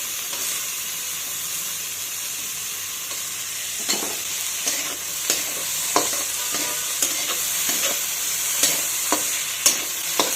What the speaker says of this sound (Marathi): टोमॅटो आपण चांगला मऊ होईपर्यंत परतून घेऊया।